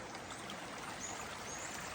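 Small river flowing past and into a shed, a steady faint rushing of water with no breaks.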